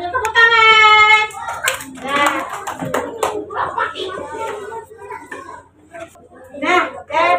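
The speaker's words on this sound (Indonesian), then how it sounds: "Silakan tepuk tangan." Schoolchildren in an Indonesian classroom give a short round of hand clapping after a teacher's prompt, followed by the teacher talking and children's voices.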